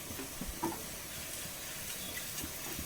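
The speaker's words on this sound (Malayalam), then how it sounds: "നമ്മുടെ ഉള്ളിയൊക്കെ മൂത്ത് വന്നിട്ടുണ്ടെങ്കിൽ നമുക്കൊരു ഒരു ഒരു കാൽ സ്പൂണ് മുളക് പൊടി ഇട്ട് കൊടുക്കാം" A quarter spoon of chili powder going into onions frying in a pan, heard as a soft, even sizzle and hiss with a few faint stirring sounds, with no talking.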